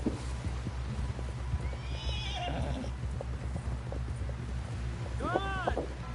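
A horse neighs and whinnies with clip-clopping hooves in the Red Dead Redemption 2 video game, the hooves a steady rhythm throughout and a clear whinny near the end, with faint voices and wind underneath.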